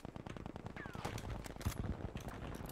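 Rapid gunfire from a shooter video game, dense bursts of shots rattling close and loud across the whole stretch with no break.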